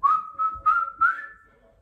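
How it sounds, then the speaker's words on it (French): A person whistles a short tune, four clear, steady notes run together and the last one trailing off, close and alone with no talk. "C'est chiant quand je siffle, hein."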